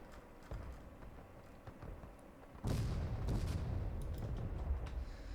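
Booming artillery cannon fire from a Civil War battle video game, a few distant thuds followed by a sustained heavy rumbling barrage that swells midway and stays dense to the end, with no talking.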